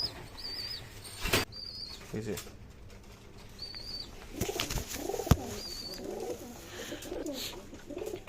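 Racing pigeons flutter and flap their wings in bursts, with soft cooing and a few sharp clicks, set against a busy background.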